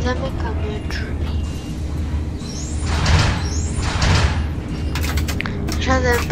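Pneumatic bus doors in a Roblox game hiss and thud shut over an idling engine hum, with light beeping and a voice talking alongside.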